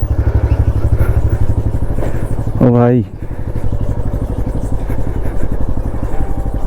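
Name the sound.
motorcycle riding across a suspension bridge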